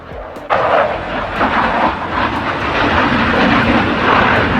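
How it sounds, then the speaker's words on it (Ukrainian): A sudden loud roar of military jet aircraft passing overhead during a funeral, a heavy sustained rumble that swells and holds, close and powerful. "пілоти бригади, якою командував Матюшенко, підняли у повітря на честь командира військові літаків."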